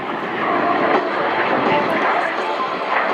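An Italian Air Force Eurofighter Typhoon rolls through a display at the RIAT 2013 airshow, its jet roar steady and broad, with a commentator's voice running over it throughout.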